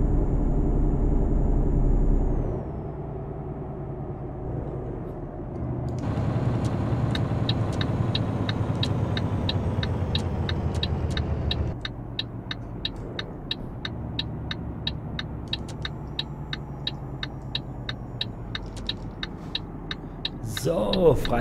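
Truck engine in Euro Truck Simulator 2 pulling uphill under load, a steady low rumble that shifts and builds as the throttle opens, with regular ticking clicks over the later stretch and no talk.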